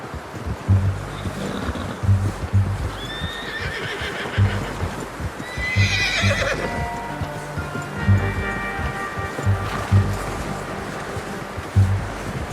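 In Red Dead Redemption 2, a horse neighs and whinnies loudly several times over steady clip-clopping hooves, with a gentle wash of water-like ambience behind it.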